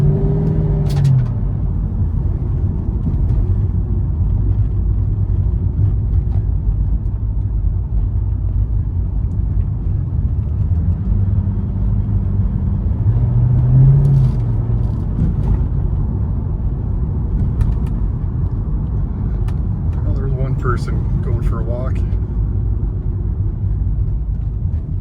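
A 2006 Shelby GT-H drives through a residential neighborhood, its engine a steady low rumble heard from inside with small shifts in pitch and a few faint clicks, no talking.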